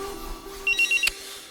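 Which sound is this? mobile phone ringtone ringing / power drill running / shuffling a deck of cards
mobile phone ringtone ringing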